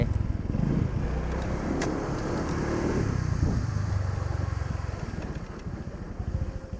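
A Honda PCX scooter fitted with a DCK transmission accelerating, giving a loud steady engine rumble with a throbbing, pulsing texture that eases slightly in level toward the end.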